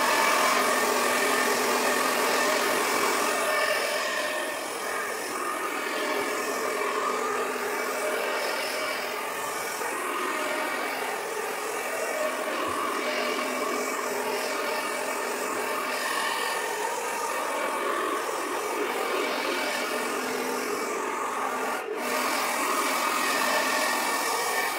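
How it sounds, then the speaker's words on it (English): A steady, loud whooshing hum of a hair dryer on high runs continuously, with a constant airy roar and no pauses. "Then I take my hair dryer, put it on high heat, and dry it out for a couple of minutes."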